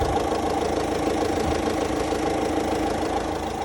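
A Tata Harier diesel engine with about 17,000 km on it idles at a steady, even clatter, close and constant with a faint knock running through the whole stretch, and no talking over it.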